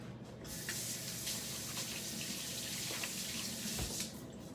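Hands washed quickly under a running kitchen tap while making date truffles, a steady close hiss and splatter of water into a sink that runs throughout and cuts off near the end.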